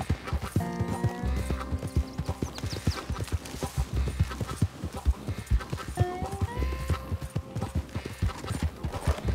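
A horse in Red Dead Redemption 2 trots with a brisk, steady clip-clop of hooves, close and continuous, with whinnying neighs rising over the hoofbeats near the start and again later.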